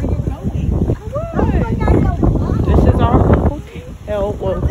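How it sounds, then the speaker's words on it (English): Wind buffets the microphone at a beach, a rough, gusty rumble that runs steadily under close voices talking throughout. "It's really pretty and windy."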